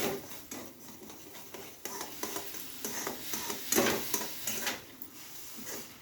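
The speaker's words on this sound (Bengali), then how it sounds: "সুজিটা দিয়ে নাড়তে থাকবো। এরকম আস্তে আস্তে নাড়তে হবে" Semolina stirred slowly into boiling salted water in a pan, with repeated scraping strokes of a spoon against the pan and a soft bubbling sizzle underneath, close and fairly quiet.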